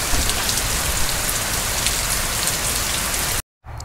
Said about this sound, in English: I thought I'd let that torrential rain storm go by